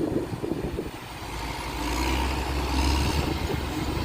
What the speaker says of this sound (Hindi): ये देखो गाड़ी आ गई और भर के